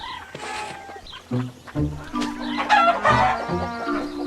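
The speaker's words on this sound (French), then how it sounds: "Je suis sûr que Gilbert ne doit pas te bousculer autant que ces poules affamées" Several hungry chickens in a children's cartoon cluck and squawk close by in a busy, overlapping chorus, with a rooster-like crow rising among them.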